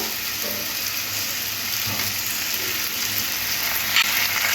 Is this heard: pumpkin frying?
yes